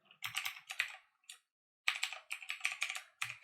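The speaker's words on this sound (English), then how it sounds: "So I'm going to go ahead and type that in one more time." Password entered on a computer keyboard: close, crisp key clicks in quick bursts, a short pause mid-way, then another rapid run of keystrokes.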